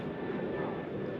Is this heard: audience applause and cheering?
no